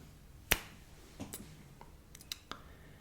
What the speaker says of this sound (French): on va faire un claquement de doigts de suspense, je vais faire 20 claquements de doigts